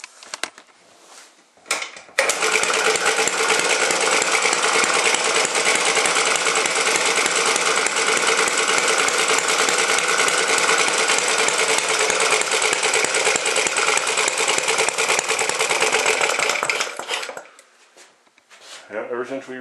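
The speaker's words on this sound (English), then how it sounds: "Yeah, ever since we rebuilt that one, it's been a hell of a good little motor." A rebuilt antique engine running steadily after warming up, giving a loud, dense, mechanical clatter for about fifteen seconds. It starts abruptly, then cuts out, and a voice is briefly heard near the end.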